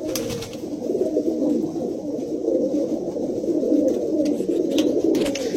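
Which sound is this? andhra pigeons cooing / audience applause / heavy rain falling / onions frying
andhra pigeons cooing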